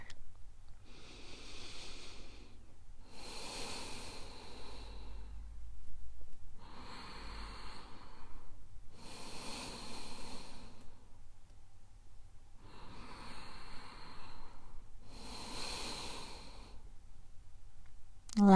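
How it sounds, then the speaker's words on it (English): Slow, deep breaths during a yoga session working toward forearm stand, six long inhale-exhale bursts spaced a few seconds apart, close and clear with no talking. "Good, deep breaths."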